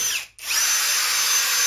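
A power tool sets a rivet in a Pelican Vault 730 case with a loud, steady high whine that dips for a split second and then runs on without talk.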